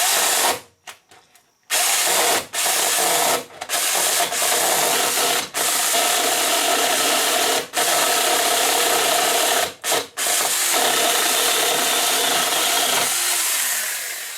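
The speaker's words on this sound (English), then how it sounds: "I made a nice plunge cut with that" A Saker mini 4-inch battery chainsaw makes a plunge cut, giving a loud, steady buzzing rasp of chain through wood. It runs for about eleven seconds with a few brief dropouts, after some short bursts at the start.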